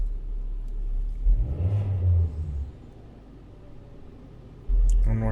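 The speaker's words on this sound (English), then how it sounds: "Raise the RPM. And let's do some snap throttle." A 2018 Hyundai Elantra with a misfire and an out-of-spec spark plug is revved by snapping the throttle. Two quick blips rise over a rough idle, nearby and loud.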